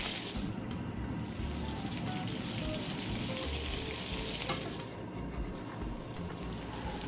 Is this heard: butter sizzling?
yes